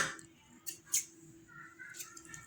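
Quiet snips of scissors trimming excess thread from a handmade Raksha Bandhan rakhi, a few short crisp cuts spaced irregularly over faint background noise.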